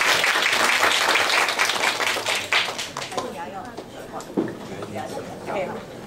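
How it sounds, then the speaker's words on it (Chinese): Audience applause welcoming a guest scientist, a doctor from National Taiwan Normal University, at a weekend children's science event; dense clapping fills the room, strongest at first and gradually thinning, with a voice speaking faintly beneath. "我们今天热烈掌声欢迎他"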